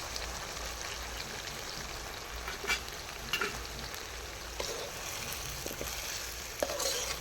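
Steady, dense sizzling as blended tomato fries with chicken in hot oil, with occasional pops and the clink of a utensil stirring the pan.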